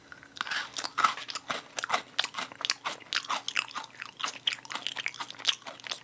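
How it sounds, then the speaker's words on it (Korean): A chocolate cookie Pepero stick studded with almonds being bitten and chewed up close, producing a steady run of crisp crunches and crackles with no talking. "초코 쿠키 먼저 먹어보도록 하겠습니다."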